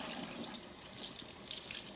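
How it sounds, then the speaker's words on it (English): Silver earrings rinsed under a running tap, a steady broadband wash of water splashing over metal and fingers in a sink, continuous and close with no pauses. "And then I'm going to wash my earrings."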